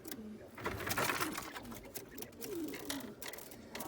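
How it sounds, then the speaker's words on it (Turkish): Young quail of Ukrainian white and American bronze or jumbo types call on a terrace in soft, repeated chirps and coos over a noisy background, with some faint talking nearby. "9 tane bıldırcın var burada"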